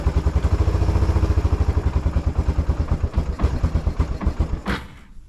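A 1996 Kawasaki Bayou 300 ATV engine chugs close by with a rapid, steady thumping idle that loosens slightly toward the end, then cuts off after a brief sharp burst.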